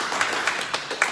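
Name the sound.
audience clapping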